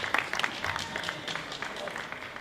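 Audience at a Habitat for Humanity breakfast fundraiser breaks into clapping, a lively dense patter with a few louder claps near the start, fairly close and sustained throughout.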